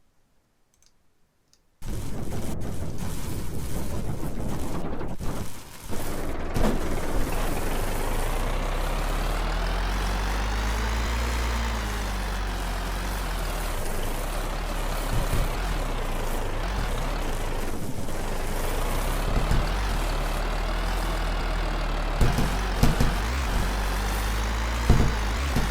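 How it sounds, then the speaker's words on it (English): A Garry's Mod video game engine starts abruptly and runs continuously, a loud droning hum whose pitch rises and falls in slow sweeps, with clicks and ticks scattered over it. "I'm going to show you how powerful this engine is on only 1/10 of the power."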